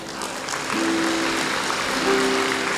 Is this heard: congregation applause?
yes